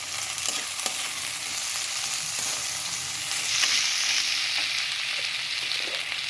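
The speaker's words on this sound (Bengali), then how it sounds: "এবার টমেটো কুচিগুলো দিয়ে দিচ্ছি।" Chopped tomatoes frying in a pan for a dhaba-style okra dish, giving a dense, continuous sizzle and crackle that swells slightly partway through, with a few soft utensil taps underneath.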